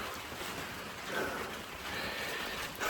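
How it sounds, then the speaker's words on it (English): Light rain falls steadily outdoors during off-road motorcycle camping in Thailand, a soft, even hiss of patter that continues without a break. "the rain snuck up on me."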